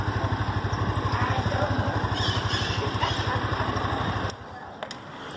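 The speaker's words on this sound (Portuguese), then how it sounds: "vamos tentar pôr a moto aqui" A motorcycle engine idles with a steady, rapid low thrum while being maneuvered into a parking spot on a town street, then cuts out near the end, leaving quiet street ambience and a couple of faint clicks.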